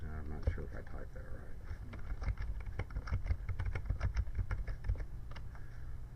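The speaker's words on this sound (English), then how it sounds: "I'm not sure if I typed that" Fingers tap a computer keyboard in an irregular run of quick, close clicks, with a low background hum underneath.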